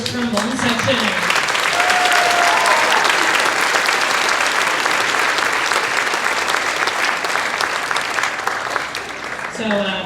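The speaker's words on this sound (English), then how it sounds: "Can we get another round of applause for our fabulous trombone section?" A school winter band concert audience applauds the trombone section with steady, full clapping that swells early and then holds before tapering off, with brief voices at the start and end.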